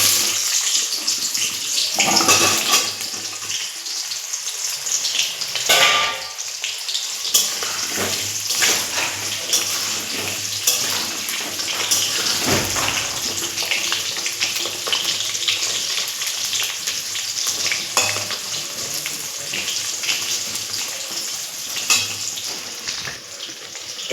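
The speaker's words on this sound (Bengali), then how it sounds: "এবার আলুগুলো একটু ভেজে নেব।" Potatoes fry in hot oil in a pan on a high gas flame, a loud continuous sizzle and crackle running throughout with occasional stirring clatter.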